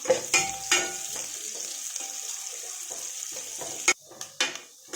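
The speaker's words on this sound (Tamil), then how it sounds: "நீள நீளமாக நறுக்கி வச்சுருக்கிற வெங்காயத்தை சேர்த்து வதக்கிக்கலாம்" Sliced onions sauté with ginger and garlic in a hot pan, giving a soft continuous sizzle broken by sharp scrapes and clinks of a spoon stirring against the metal, close and without talk.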